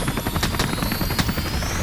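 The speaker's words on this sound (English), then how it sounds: "The first helicopter touches down and 20 Marines jump from the aircraft" Military helicopter landing under fire: rapid, steady rotor thumping, loud and close, with a turbine whine over it and no speech.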